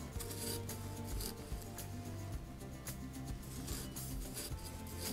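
A knife cuts thin slices into a raw potato for hasselback potatoes, giving a steady run of close rasping, scraping strokes that continue without pause.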